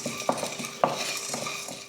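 Whole spices (fennel seeds, black pepper, cumin, cinnamon, cloves and cardamom) dry-roasting in a kadai, stirred with a spoon: close scraping and clinking strokes in a steady rhythm over a faint crackle, no voices.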